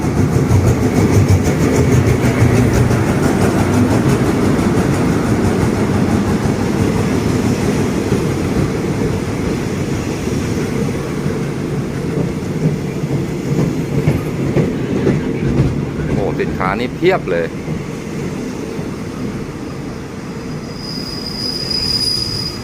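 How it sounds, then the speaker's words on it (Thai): A train rumbles past at close range through Ban Pong railway station, Thailand, with clattering wheels and a brief high squeal of metal, loud and continuous throughout. "เดี๋ยวคลิปนี้เราชมรถไฟยามบ่ายกันที่สถานีรถไฟบ้านโป่งนะครับ"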